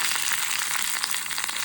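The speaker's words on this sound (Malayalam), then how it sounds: "കടുക് വറുത്ത് സാമ്പാറിലിട്ട് ഇട്ടു" Mustard seeds fry in hot oil for a Kerala-style sambar tempering, giving a brief, steady, bright sizzle with no voices.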